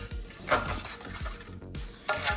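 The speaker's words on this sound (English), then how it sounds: "So you're gonna start whisking." A whisk scrapes and clinks rhythmically against a bowl, several quick strokes close up, soft and clattery with no talking.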